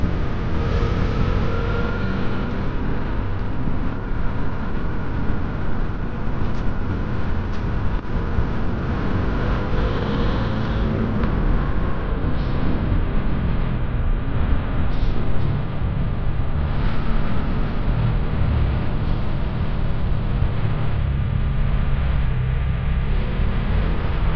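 Bajaj Dominar 400 motorcycle climbing an off-road uphill stretch, a steady, continuous engine drone with road and wind rumble throughout, fairly loud and close, no talking.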